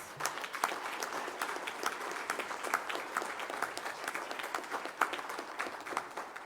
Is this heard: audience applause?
yes